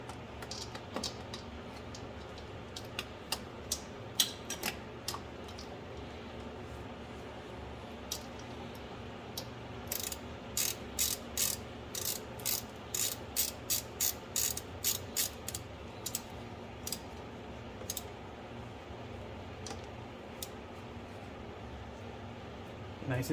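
A ratchet wrench tightens an M10 bolt on a power steering pump during an engine swap on an Audi. Scattered ratchet clicks come first, then a quick rhythmic burst of close, sharp clicks, with a person talking quietly now and then.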